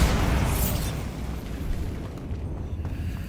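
A Bombarda spell explosion in Hogwarts Legacy: a dense, loud roaring blast that rumbles steadily for several seconds, slowly thinning toward the end, with no voices.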